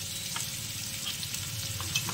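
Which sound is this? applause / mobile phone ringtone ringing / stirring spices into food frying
stirring spices into food frying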